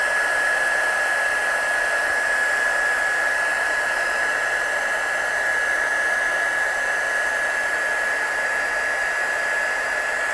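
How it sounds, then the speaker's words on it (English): A heat gun blows steadily on a stamped craft image, a constant loud airy rush with a thin, unwavering whine running through it and no pauses. "So I'm just going to take my heat gun"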